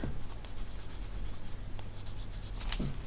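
A colored pencil is worked across a page of a colouring book, quiet close scratchy strokes with soft rubbing and a few sharper marks, continuing steadily.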